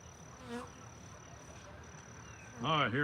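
Honeybees buzz steadily around a hive during beekeeping, a faint continuous drone with a brief voice near the start and a louder close pass of a single bee near the end.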